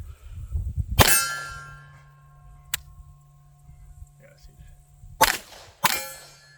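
Three sharp, loud gunshots from a Phoenix Trinity H Duty firearm ring out at a range: one early, then two close together near the end, with a small click between them and faint voices in the background.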